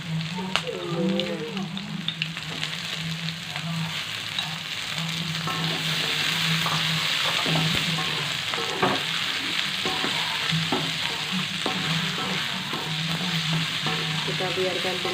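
Yellow pumpkin is stir-fried with spice paste in a wok, a continuous dense sizzle with frequent scraping stirs and a low steady hum underneath throughout.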